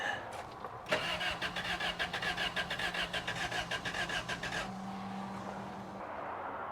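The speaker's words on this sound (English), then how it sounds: "Let's see if oil comes out when I crank it." A Toyota street truck engine cranks over with a rapid, rhythmic starter chug for several seconds without catching, then a steady mechanical whine lingers after the cranking stops.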